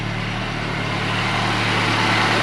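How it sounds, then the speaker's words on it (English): A Volvo 240 engine idles steadily on a cold day after carburetor repair, a constant low rumble with a broad even hiss and no pauses or voices. "Engine sounds pretty healthy."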